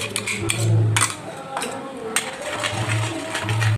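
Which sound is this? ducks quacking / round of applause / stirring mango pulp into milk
stirring mango pulp into milk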